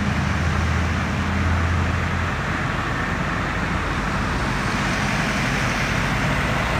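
Steady, dense rushing roar of a FAW J6 truck driving through deep floodwater on a flooded highway, with constant water and engine noise throughout and no talking.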